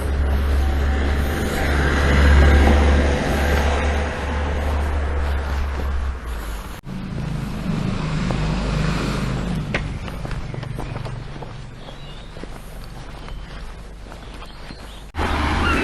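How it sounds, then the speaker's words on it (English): Cars and other vehicles drive along a road, a low broad engine rumble that swells and fades as they pass, steady and fairly close throughout with no talk. "Same for the amount of vehicles coming down this road"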